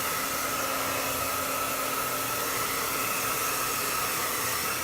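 A handheld blow dryer runs steadily while drying hair during a classic bob haircut, a loud, continuous whooshing hiss with a faint tonal whine, close to the microphone and alone with no talking.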